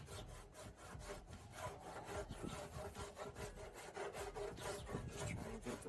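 A cheese grater rasp shapes body filler on a Suzuki Samurai SJ410 during restoration, giving a rough, rhythmic back-and-forth scraping, quiet but close and steady, with no voices.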